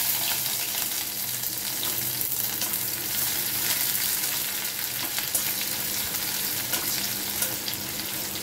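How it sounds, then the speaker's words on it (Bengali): Onions fry in a pan after cumin for a pumpkin and hilsa head dish, a continuous bright sizzle with light crackles and faint stirring, steady and fairly close, with no talk. "পেঁয়াজটা হয়ে গেছে ভাজা"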